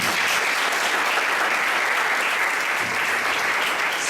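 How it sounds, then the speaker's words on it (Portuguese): A church congregation claps together in a thick, steady wash of applause that stays loud and even from start to finish. "Vamos aplaudir Jesus"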